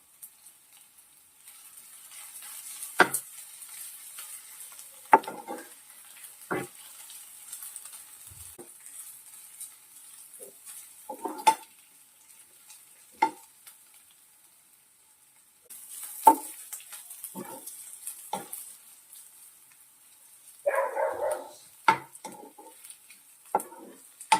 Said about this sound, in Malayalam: ഇഞ്ചിയും വെളുത്തുള്ളിയും അതിന്റെ പച്ചമണം ഒന്ന് മാറുന്നത് വരെ ഒന്ന് വഴറ്റാം